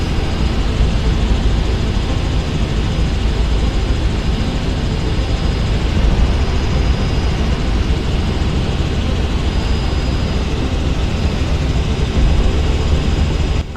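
Loud, continuous helicopter rotor and engine roar fills the whole stretch with no break, a dense heavy drone heard from inside the helicopter in flight over Orlando, Florida.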